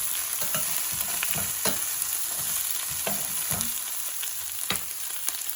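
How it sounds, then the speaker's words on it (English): Steady sizzling of mixed vegetables frying in a pan, with occasional stirring clinks and scrapes, close and continuous without any talking. "So as I am frying it, you can see I'm frying it."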